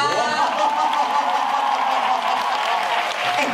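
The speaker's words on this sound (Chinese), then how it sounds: "就让我们一起用掌声热烈的欢迎帕拉出场" Applause and crowd noise from a school club audience welcoming a performer onstage, dense and steady throughout with cheering mixed in.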